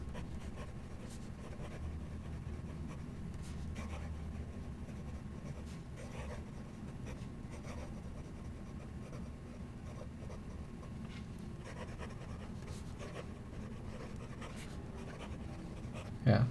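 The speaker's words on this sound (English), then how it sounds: "Try some fast writing." A Danitrio Densho fountain pen with a medium nib writes quickly on paper, giving a faint, continuous scratch with light stroke-by-stroke pulses over quiet room noise.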